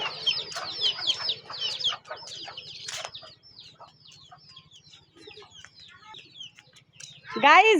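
Chickens and a rooster clucking and calling outside a house, a busy overlapping chorus of short calls with a louder rising crow-like call near the end, over a low steady hum.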